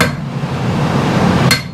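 A small hammer strikes a blade on an anvil in a blacksmith's forge: a sharp blow, a ringing decay, then a second bright strike near the end.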